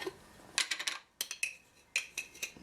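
A metal spoon scoops and taps black sand with borax in a container, producing a few quiet clinking scrapes and clicks in short bursts with gaps between them, no talking.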